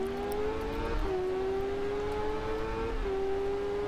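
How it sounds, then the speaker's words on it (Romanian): A motorcycle engine in the racing video game Ride, a steady high-pitched whine held at speed with brief dips as it shifts, loud and continuous with no talk. "îmi place cum se aude motocicleta asta la nebunie"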